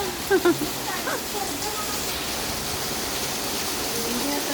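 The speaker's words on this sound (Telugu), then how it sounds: "చాలా పెద్ద వర్షం వస్తుంది" Heavy rain pours down in a dense, steady hiss, with a couple of brief voices near the start.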